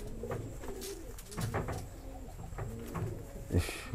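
Caged pigeons coo in low repeated throaty phrases at close range, with faint background voices and rustling in the coop.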